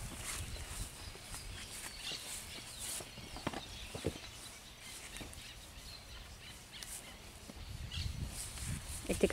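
A gentle chestnut horse standing 1.40 m tall walks with soft, faint hoof clip-clops that come in an uneven rhythm, while birds call in the background.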